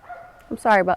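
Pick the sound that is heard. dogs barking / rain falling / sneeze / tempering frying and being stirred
dogs barking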